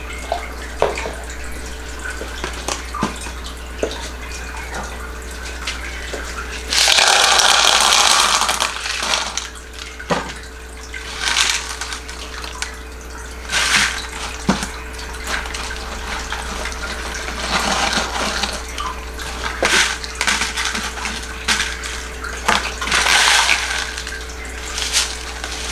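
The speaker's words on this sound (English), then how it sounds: "I'm going to go ahead and water this guy because it's really dry." Water pours onto a dry potted plant in an indoor plant-care setting, a loud rushing burst around the middle amid intermittent splashes, drips and clinks close to the listener, with no talking.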